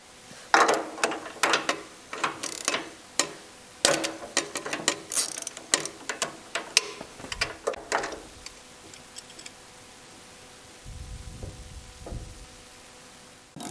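Ratchet loosening a spark plug from cylinder one of a Porsche engine with C.I.S. fuel injection, a close run of sharp clicking strokes for about eight seconds, then quiet with faint shuffling and a soft thump.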